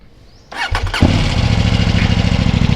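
A KTM Duke 790 motorcycle engine with a slip-on exhaust cranks briefly and catches, then settles into a loud, steady idle close by.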